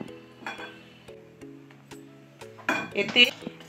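A spoon clinks against a metal container several times while scooping hot white oil into beguni gram-flour batter, the sharp light taps heard over soft background music.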